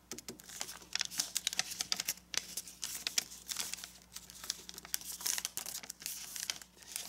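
Paper being creased and folded for an origami marble run, a run of close crinkles, rustles and sharp crisp taps at an uneven rhythm with no one talking.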